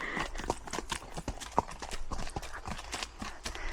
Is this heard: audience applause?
no